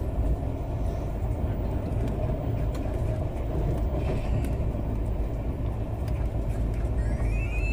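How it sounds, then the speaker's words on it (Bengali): Sealdah Duronto Express running at high speed on a night journey from New Delhi towards Kanpur, heard from inside as a steady, heavy low rumble with light rattling throughout. "ট্রেন ছেড়ে দিয়েছে অলরেডি"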